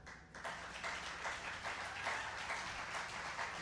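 Audience applause rises almost at once and continues as dense, steady clapping from a seated crowd at a book talk, fairly distant and even in level.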